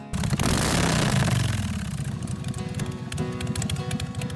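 An engine catches and rises to a loud whirr, then settles into a steady, throbbing idle close by.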